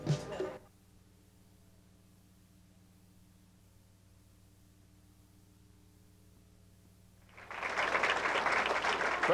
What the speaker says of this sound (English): Crowd very appreciative of the effort so far by our two bowlers, Harry Culbertson and Frank Ferri